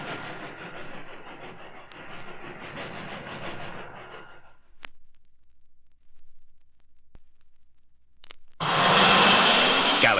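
Train sound effect from a 1980 radio spot for the space film Galaxy Express, a rumbling rail clatter that cuts out into near silence, then a loud, bright hiss and whistle of a train surges in at the end.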